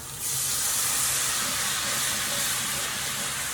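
Sauce slurry poured into a hot pan of sauteed peppers and onions for pepper steak, bursting into a loud, steady steam hiss that starts abruptly and holds broad and sizzling throughout.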